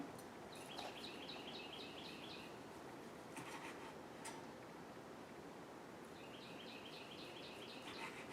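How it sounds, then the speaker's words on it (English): Small birds chirp outdoors in quick repeated trills, faint and somewhat distant through an open patio door, over a soft steady background hiss. "You can hear my talkative birds out there."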